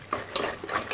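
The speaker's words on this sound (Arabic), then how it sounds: "كناخذوا البيض ديالنا هكذا، كناخذوا الزيت كنخلطوا هاد جوج المقادير" Eggs and oil are whisked together in a bowl, making a few quick, close scraping and sloshing strokes in a soft, rhythmic pattern.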